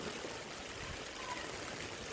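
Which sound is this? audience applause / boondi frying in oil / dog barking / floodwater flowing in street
floodwater flowing in street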